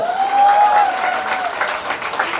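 Audience at a film festival in Delhi bursts into sustained clapping, a dense steady wash of applause filling the whole stretch, with a few cheers rising over it near the start.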